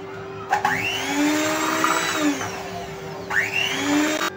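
An electric mixer whirs steadily through a custard ice cream mixture with a loud, continuous motor drone, and its pitch swoops as it spins up at the start and again near the end.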